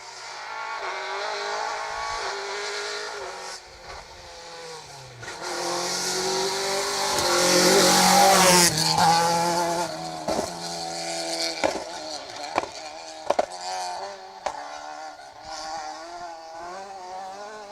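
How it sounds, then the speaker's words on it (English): An Opel Ascona rally car on a stage of the Down Rally approaches, roars loudly past at high revs, then fades away with sharp gear changes and popping as it goes. "Kieran O'Kane, Sean Devlin in the Opel Ascona. Fantastic looking and sounding car."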